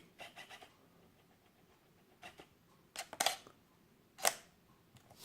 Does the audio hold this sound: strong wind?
no